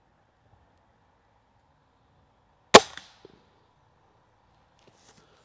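A Gamo Shadow IGT 24J air rifle fires a single shot: one sharp, loud crack that decays quickly, followed by a couple of faint clicks in an otherwise quiet setting.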